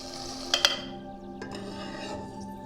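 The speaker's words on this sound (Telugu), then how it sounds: "ఫస్ట్ కొద్దిగా నూనె పోసి పచ్చిమిరపకాయలు వేయించుకుందాం." Green chillies and sesame seeds frying in a little oil in a pan, a steady close sizzle with a couple of sharp metallic stirring clinks near the start and a scrape later.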